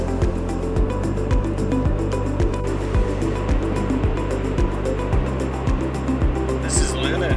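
A car cruises on Highway 16 with steady road and wind noise and a low engine drone, a rhythmic thump from the tyres recurring every half second or so, all close and continuous.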